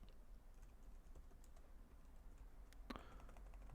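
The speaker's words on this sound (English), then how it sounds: "I'm going to type in the proposed agenda for the call." Quiet typing on a computer keyboard while entering a meeting agenda in OneNote, soft scattered keystrokes over a steady hum, ending in a slightly louder burst of clicks.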